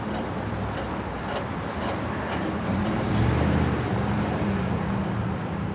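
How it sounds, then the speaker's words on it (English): Steady roadway noise from traffic passing through a street intersection forms a continuous wash of engines and tires, swelling slightly midway as a vehicle draws closer, with no clear voices. "I'll be listening to the traffic to my left."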